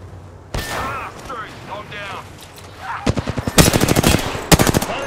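Rapid automatic gunfire from the Apex Legends video game, a short burst early followed by dense, loud volleys of repeated shots in the second half, with a voice speaking over the opening section.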